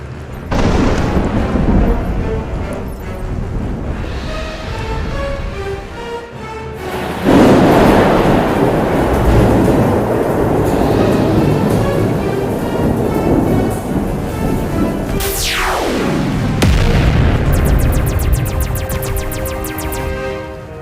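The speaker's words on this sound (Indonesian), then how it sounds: "Ledakan terjadi di mana-mana" Booming, rumbling blasts roll continuously alongside a sharp descending whoosh, dense, loud and chaotic, like explosions going off all around a city.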